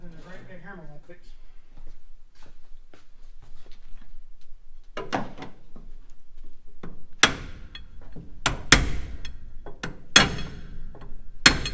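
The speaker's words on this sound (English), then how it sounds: "Ain't nothing a great big hammer won't fix." Several sharp metallic bangs ring out irregularly, like a hammer striking an old Chevrolet car body, after a brief stretch of quiet clicks and handling noises.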